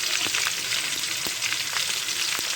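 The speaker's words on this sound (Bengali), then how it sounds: "আমি তেলে সামান্য একটু লবণ দেবো, তাড়াতাড়ি পেঁয়াজটা ভাজা হয়ে যাবে" Chopped onion frying in hot oil with a little salt, a close, steady crackling sizzle with faint stirring taps throughout.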